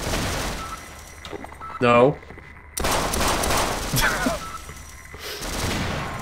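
Gunfire in the video game Half-Life Sven Co-op, including Magnum revolver shots: loud, close bursts of firing scattered through the clip, mixed with a short spoken word and other game noises.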